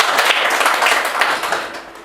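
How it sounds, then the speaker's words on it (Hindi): An audience at a community organisation gathering applauds, a dense patter of many hands clapping at close range that fades slightly toward the end. "सुरक्षित कोष का नाम आया तो तालियां और जोर से बजनी चाहिए"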